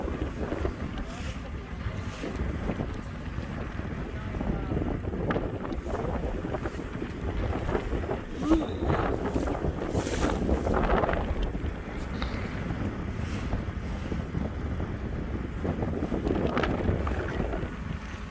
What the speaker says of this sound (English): It's a nice little boat ride here.